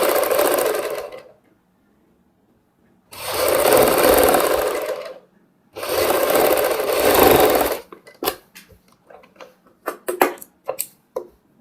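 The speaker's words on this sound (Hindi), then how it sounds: "यहाँ पे भी हम सिलाई करेंगे।" A sewing machine stitches a kurti neckline in three sustained, loud whirring runs separated by short pauses, then gives way to scattered light ticks and clicks of fabric handling.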